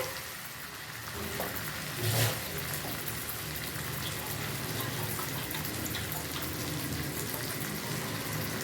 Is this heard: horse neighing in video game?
no